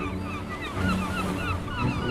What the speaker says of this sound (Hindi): दूर दूर तक फैला समुद्र और उसके अलावा कुछ नहीं दिखाई दे रहा था।